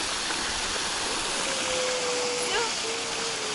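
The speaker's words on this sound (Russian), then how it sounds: "Да здесь ключи-то не маленькие, почти водопадики." Spring water streaming out of a layered hillside in small waterfall-like rivulets, a continuous close splashing rush, with a voice briefly audible over it.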